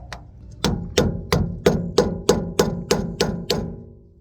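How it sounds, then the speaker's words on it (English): A rubber mallet strikes a metal grease cap on a boat trailer hub about ten times in a steady rhythm, each blow a sharp, close knock with a short ring. "you're going to have to hammer it on with a rubber mallet or a piece of wood."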